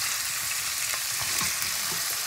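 Fresh green beans are stir-fried in a hot pan, with a constant close sizzle broken by soft scraping and shuffling as they are turned, and no talking.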